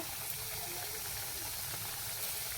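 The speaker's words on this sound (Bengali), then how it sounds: "তেলটাও গরম হয়ে গেছে। আলু দিয়ে দিচ্ছি, নুন দিয়ে দিচ্ছি" Potato pieces hitting hot oil in a pan give a steady, close hiss of sizzling that holds evenly throughout.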